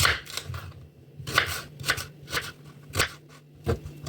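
An onion is sliced with a knife for tomato sauce, giving about a dozen crisp, irregular cutting strokes close by, with brief quiet gaps between them and no talking.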